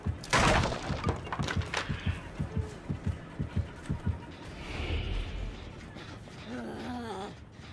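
Heartbeat terror radius in the video game Dead by Daylight, a series of deep, evenly spaced thumping beats after a loud crash, fading out as other game sounds and a brief voice follow.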